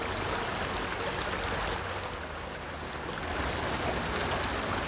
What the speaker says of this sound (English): wading around in shallow water, well away from where the fish should be